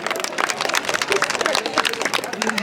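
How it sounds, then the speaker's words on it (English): A group of people at a gathering claps together, a dense, steady patter of many hands mixed with crowd chatter and cheering voices. "This is the claps."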